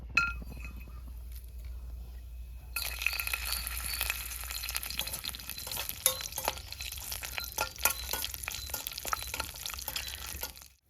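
Onions, mint leaves and green chillies frying in a pan for tomato rice, a quiet low hum at first, then a steady sizzle with stirring and light metallic clinks once the ingredients go in, with no talking.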